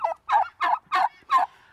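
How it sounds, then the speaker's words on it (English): Friendly farm turkeys gobble in five quick, close, loud bursts, evenly spaced with short gaps, and no other sounds. "I would have never thought that turkeys were this friendly."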